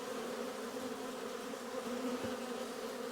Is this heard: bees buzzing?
yes